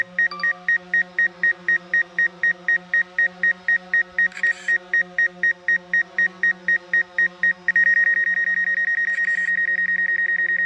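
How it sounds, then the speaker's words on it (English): Fast, evenly spaced electronic beeps repeat for several seconds, then merge into one continuous loud tone. "it's the beeping that made the dogs like think like, what the hell is going on?"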